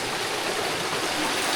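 A waterfall and stream pour over rocks in a dense, unbroken roar of rushing water, loud and close with no voices.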